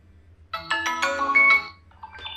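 A ringtone preview plays on a Vivo V70 FE phone: a bright, melodic electronic chime of several quick stacked notes, fairly loud and close, then a softer tail of tones, with no talking over it.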